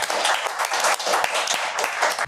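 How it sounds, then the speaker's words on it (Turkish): A rap show studio audience claps continuously, a dense patter of applause heard moderately close and steady with no clear speech. "Ulan amma alkış aldım bugün de."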